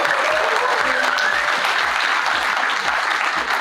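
Steady, dense applause from a convention audience fills the room, many hands clapping continuously and evenly at close to moderate distance with no pauses.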